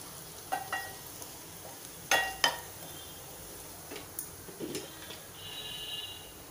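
Half a teaspoon of cumin seeds dropped into hot oil for a Marathi fasting dish, giving faint crackling sizzle with a few sharp pops and ticks spread over several seconds, quiet and close.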